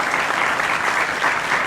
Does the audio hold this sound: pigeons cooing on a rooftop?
no